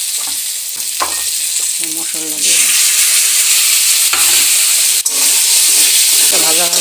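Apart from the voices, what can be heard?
frying spiced vegetables in a pan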